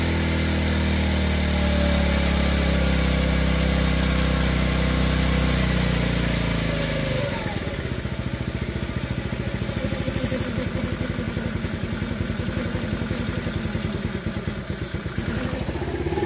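A TaoTao 50cc Chinese scooter engine runs loudly and unevenly up close, a steady drone that shifts midway into a rougher, rapid sputtering putter.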